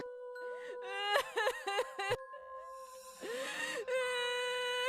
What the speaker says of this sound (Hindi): मुझे अचानक किसी के रोने की आवाज सुनाई दी